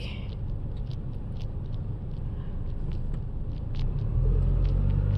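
A sugarcane truck rumbles past on a roadside, its low engine drone swelling and growing louder toward the end, with no talk over it.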